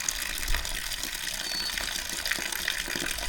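Water gushing and draining steadily out of an old washing machine that has collected rainwater for a couple of years, a continuous close, fairly loud rushing flow with no talk.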